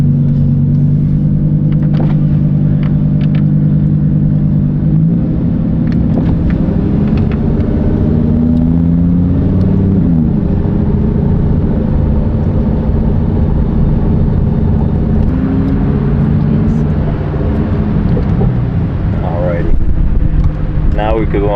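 A Lamborghini Huracan Performante with a V10 engine drives along with a steady low engine rumble and road noise inside the cabin, the pitch shifting occasionally, while a person talks over it.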